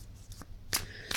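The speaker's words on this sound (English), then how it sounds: "while I'm shuffling these cards and waiting for one to pop out" Tarot cards are shuffled in two or three quick, close riffling bursts with short pauses between them.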